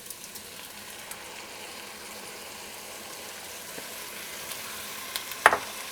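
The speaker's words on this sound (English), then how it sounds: "Carefully dump in your tomatoes." Tomatoes hit a hot pan for shakshuka and sizzle in a soft, continuous frying hiss. A brief clatter near the end rises above the steady crackle.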